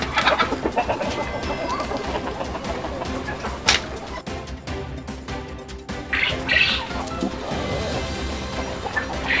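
Free-range local chickens and roosters on a poultry farm in Baglung, Nepal, with repeated squawks and clucks close by, several sharp bursts standing out over a constant background of farmyard bird chatter.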